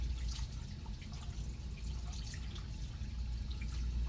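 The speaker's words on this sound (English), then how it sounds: "activate the electronic sensor. If there's one under here, which there's and then not, wet hands with water" Hands are wet under a running faucet at a sink, a soft steady water flow with light dripping and splashing throughout, fairly quiet and with no speech.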